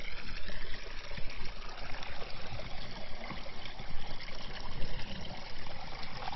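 Fast-running stream at the water source of a remote bothy on the Southern Upland Way, a steady, close rush and trickle of water that continues without a break and has no voices over it.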